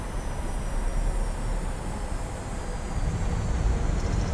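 A PMDG 737-800 rolls out after touchdown in Microsoft Flight Simulator, its thrust reversers giving a steady, loud, broad engine roar with runway rumble beneath it and no one talking.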